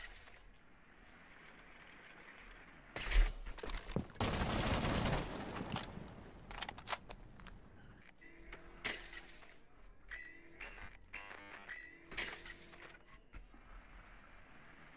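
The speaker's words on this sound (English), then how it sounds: "Shoot all the cams." Bursts of gunfire in Rainbow Six Siege as cameras are shot out: a loud sustained volley, then scattered single shots and mechanical clicks with quieter gaps between.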